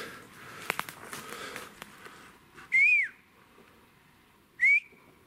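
Two short rising whistles ring out a couple of seconds apart over faint rustling and soft outdoor noise.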